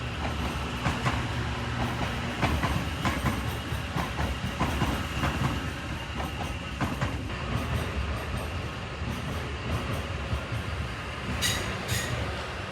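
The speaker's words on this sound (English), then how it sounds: "Here comes the last train of the night. The last commuter train, I think it is." A commuter train passes a railway tunnel at night, with a continuous rumbling roar and rhythmic clatter of wheels over the rails and a few brief high squeals near the end. Close and loud, with no voices.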